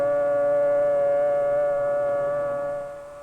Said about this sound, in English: The signal is a long, steady blast on the civil defense sirens or other warning devices.